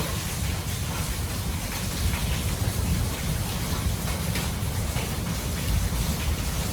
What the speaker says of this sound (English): Innocence and peace in the middle of a rainy day.